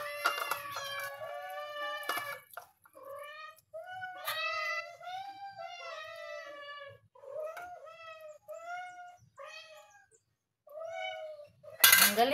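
Several small cats meow repeatedly while eating, near and insistent, with overlapping cries and faint clinks of dishes, ending in a brief noisy burst.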